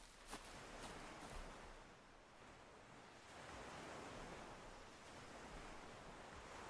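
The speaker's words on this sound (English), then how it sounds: "What happened to the sound of the ocean?" Ocean waves surge in a steady, broad wash of surf with gentle swells and some wind, no voices over it.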